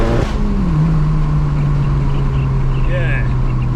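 Stage 3 VW GTI engine on a dyno, a loud close roar that drops from a higher rev into a steady sustained drone, with faint whistling above it.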